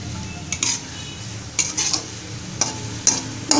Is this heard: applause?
no